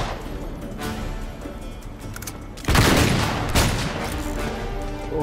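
A grenade blast and gunfire in a shipyard shootout from Uncharted 3: Drake's Deception, a loud sudden burst cutting through steady background clatter, followed by lingering crackle.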